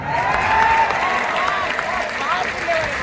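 An audience at a Hindi poetry recital breaks into applause, a broad crowd of clapping with some cheering, sustained and fairly loud, with voices mixed into it.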